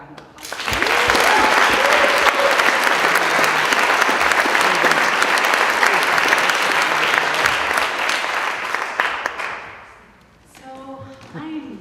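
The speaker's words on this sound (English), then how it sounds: "So how about a round of applause?" A TEDx talk audience at a public library applauds for about ten seconds in a dense, steady clatter of clapping that fades out near the end, with a voice briefly heard as it dies down.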